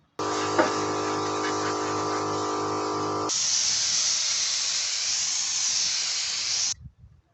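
A paint spray gun hisses steadily as it sprays thinned winter-weight bar oil. A tonal motor hum runs underneath for the first few seconds, then the hiss continues alone, loud and close, until it cuts off abruptly.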